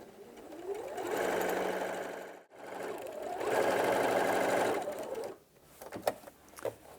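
A sewing machine stitches straight seams on a hessian bag in two steady, fast whirring runs separated by a brief pause, then a few light clicks and thumps as the fabric is handled.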